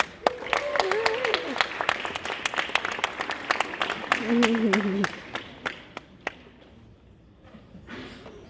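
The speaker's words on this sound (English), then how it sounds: "Please give William R. Davie star students a big round of applause." An audience at a school character education award ceremony claps for star students, scattered sharp claps swelling to steady applause and then fading, with voices and brief cheers mixed in.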